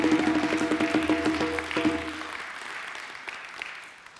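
Audience applause at a church session on social analysis, a couple of seconds of clapping that thins out and trails away, with a steady tone running underneath at first.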